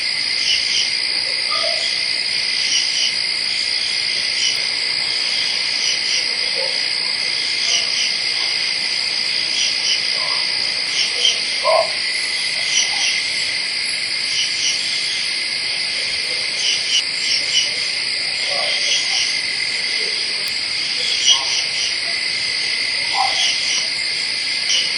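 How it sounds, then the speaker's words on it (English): Dense, continuous cricket chirping fills a night recording that has been noise-reduced, while soft, scattered owl hoots rise briefly above the insect drone throughout. "the cricket sounds are as diminished as I could possibly make them, because they actually overwhelm all the other sounds"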